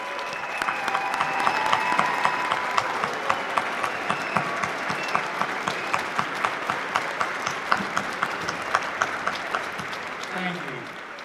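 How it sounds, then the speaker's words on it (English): Steady audience applause at a university commencement ceremony honoring graduates' parents, a dense crowd of clapping with some sharper individual claps standing out, continuing for about eleven seconds while a voice briefly speaks over it. "I ask everyone to join me in a round of applause"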